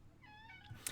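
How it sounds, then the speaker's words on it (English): A pet cat meowing in the background indoors, one faint drawn-out meow followed by a short higher squeak, quiet and brief with no talk over it. "if you can hear my cat meowing in the background"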